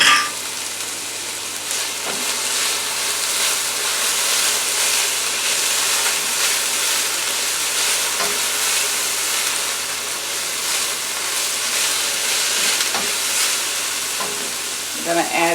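Jasmine rice stir frying in a hot pan with mushrooms, corn and other vegetables, a steady loud sizzle and hiss with occasional stirring scrapes, no talking.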